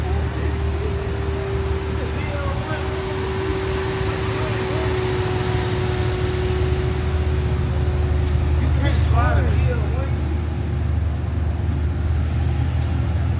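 A Chevrolet Camaro ZL1 1LE engine gives a deep, steady rumble that holds at a constant pitch throughout, close and loud, while people talk over it.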